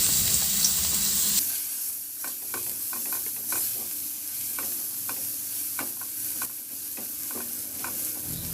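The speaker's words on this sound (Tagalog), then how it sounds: "igisa ko na yung luya at bawang" Ginger and garlic sauté in a small amount of oil, frying for a tilapia dish. A loud hiss opens, then a steady close sizzle with repeated light scrapes and taps of a spatula against the pan.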